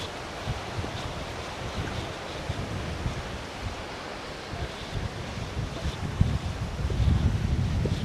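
Waves wash onto a beach on Capul Island, Philippines, under steady wind buffeting the microphone, with surf swelling louder near the end; no voices.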